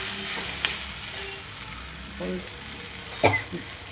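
Ivy gourd (kundri) frying in a pan, a soft sizzle with a few scrapes and clinks of stirring, quiet and close with short louder taps near the end.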